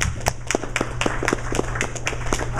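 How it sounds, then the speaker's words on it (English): Small lecture audience claps sparsely, distinct individual claps in a quick irregular patter over a steady low hum, close and moderately loud. "Now let's give Don a round of applause."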